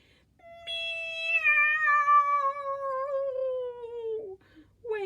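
Mr. Pusskins the cat gives one long, close, wailing meow that slides slowly downward in pitch, then breaks off into a short second cry, with no other sound around it.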